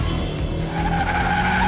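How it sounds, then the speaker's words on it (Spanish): Cartoon car engine roaring with a sustained tire skid, echoing steadily and loudly with no pause. "Escucha los ecos y el sonido del motor."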